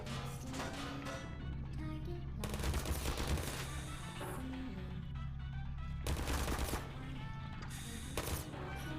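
Automated turret gunfire aimed at the player in the video game Portal, loud rapid bursts of shots with short pauses between them, repeating across several seconds.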